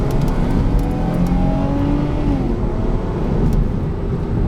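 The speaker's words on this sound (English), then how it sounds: "you get a great sound when you really step on it." A 2002 Lexus IS300 engine pulls hard with traction control off and power mode on, a loud, continuous rising engine roar mixed with road and wind noise, heard close from inside the car.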